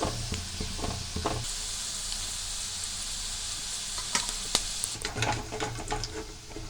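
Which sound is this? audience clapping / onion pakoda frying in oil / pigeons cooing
onion pakoda frying in oil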